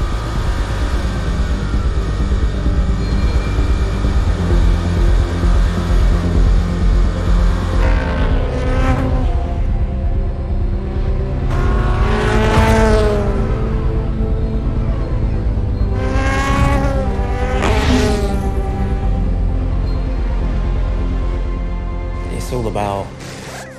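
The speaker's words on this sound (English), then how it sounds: "Now to the pit lane, the number 7 Toyota begins its race." Toyota WEC endurance race car pulling out of the pit lane and racing, engine note rising and falling with sweeping pass-bys, heard beneath someone talking over much of it.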